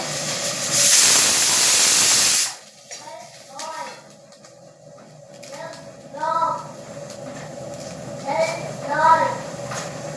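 Green chillies with curry leaves roasting in a pan give a loud, steady sizzling hiss for about two seconds that cuts off abruptly, followed by a quieter kitchen background as someone talks.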